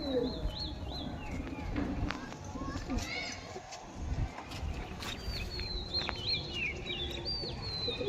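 A pair of pigeons, including a small female, coo in soft low bursts amid a busy loft, with chirps from other birds and someone talking over the calls.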